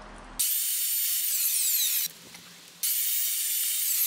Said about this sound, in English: I'm just going to use the chop saw just to take a little bit off the end to tidy up the edges